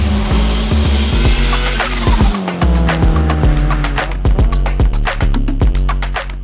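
A turbocharged 4-cylinder Chevy Camaro accelerates hard with a loud revving engine, its pitch rising and falling through gear changes, while the tires squeal and chirp repeatedly, close and dominant throughout.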